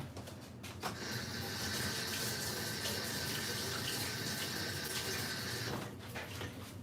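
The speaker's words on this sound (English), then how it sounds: "let me wash my hands real quick." A kitchen tap runs steadily while hands are washed beneath it, a loud continuous splashing hiss that starts abruptly and cuts off near the end, during live home dinner cooking.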